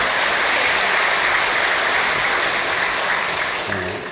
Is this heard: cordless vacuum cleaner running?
no